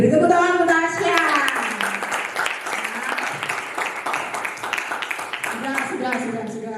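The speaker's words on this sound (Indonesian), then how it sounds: "beri tepuk tangan untuk Tasya" Classroom applause for a student named Tasya, a burst of clapping from a group of students filling the room over several seconds, with voices talking over it throughout.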